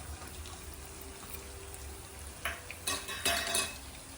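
Onion dropped into hot oil and stirred in a pan: a soft, low frying hiss throughout, with a few brief stirring and sizzling bursts near the end.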